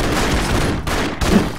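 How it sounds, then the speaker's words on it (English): A remote control rocket fires in the action video game Broforce, with loud, dense explosive gunfire blasts and booms running continuously, punctuated by two brief dips. "Remote control rocket! Do my bidding!"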